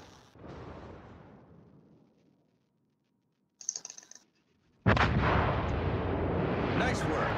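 Heavy warship artillery salvos in World of Warships, a booming blast fading out, a short rattling burst, then a sustained loud roar of guns with faint keyboard taps and a little speech.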